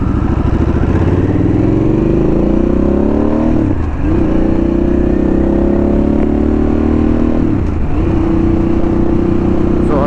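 A motorcycle with a Two Brothers aftermarket exhaust revs and rides, its loud, continuous engine note rising in pitch with brief dips at shifts, close and dominant throughout.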